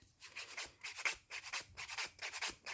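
The rough side of a nail file rasps rapidly back and forth across acrylic nails in quick, even strokes, a close, soft scratchy rubbing with no talk.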